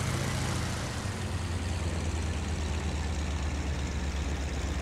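The engine of a de Havilland Tiger Moth biplane idles in the IL-2 Sturmovik Cliffs of Dover flight sim. It is a steady low drone with a constant rumble, close and even throughout.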